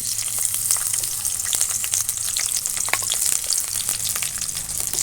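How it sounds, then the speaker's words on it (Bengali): Chopped onion and slit green chili fry in hot oil in a kadai, giving a steady, close sizzle with fine crackles and pops that runs through the whole stretch. "এবার আমি তেল দিয়ে দিলাম দিয়ে দেবো পেঁয়াজ কুচি কাঁচা লঙ্কা চেরা"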